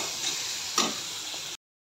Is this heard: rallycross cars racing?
no